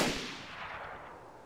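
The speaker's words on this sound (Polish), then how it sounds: "Widzę w krzaku gościa, oddaję strzał." A single sharp gunshot blast with a rolling, fading tail in the video game DayZ, alone with no voices.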